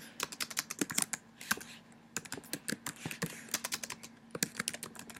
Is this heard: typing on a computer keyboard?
yes